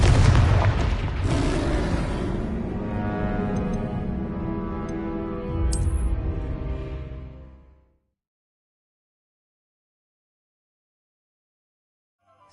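Confringo explosive spell blasts in Hogwarts Legacy: a loud booming detonation followed by a long rumbling, ringing decay, a second boom near six seconds, then fading out into silence.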